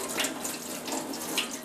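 Cold water runs steadily from a kitchen tap into a sink while pancakes are being cooked, a close, continuous splashing hiss with no talk over it.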